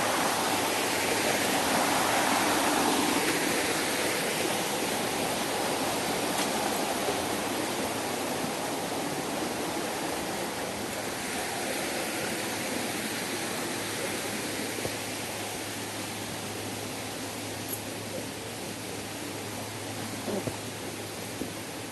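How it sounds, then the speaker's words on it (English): A rainy-season waterfall on a Tepoztlan hiking trail roars as a dense, steady wash of falling water, loud and continuous throughout with no talk. "the height of the rainy season, as is evident by this waterfall"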